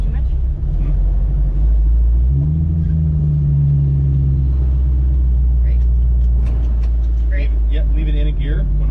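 A 1968 Ford Mustang Fastback with a manual transmission idles with a deep, steady low rumble. The engine swells briefly as it revs partway through and keeps running close by throughout, with voices talking over it near the end.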